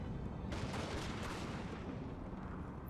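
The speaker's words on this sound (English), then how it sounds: "They're firing, nonetheless." Musket gunfire in the Napoleon Total War video game, a continuous volley of crackling shots and dull booms rolling together in a dense battlefield roar without pause.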